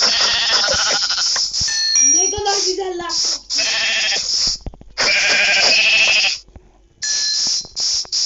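Minecraft sheep bleat in quick repeated calls, loud and close, with someone talking over parts of it and background music.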